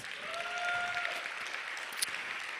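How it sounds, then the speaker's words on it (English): Audience clapping at a poetry keynote address, a short burst of steady dense applause from a crowd in a hall, with a few whoops and voices mixed in. "Give yourselves a round of applause."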